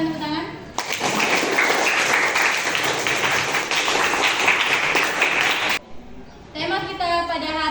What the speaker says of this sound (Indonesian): Bagus sekali ya jawabannya, silakan tepuk tangan